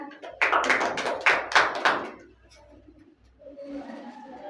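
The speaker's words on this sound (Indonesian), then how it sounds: "Tepuk tangan ya" Brief applause in an elementary school science classroom, a short burst of several sharp clapping bursts up close, followed by quieter room murmur and voices.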